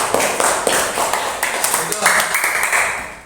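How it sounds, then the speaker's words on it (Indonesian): A group of children claps hands together in a sustained, bright patter while a voice speaks briefly over it. "Bagus, tepuk tangan."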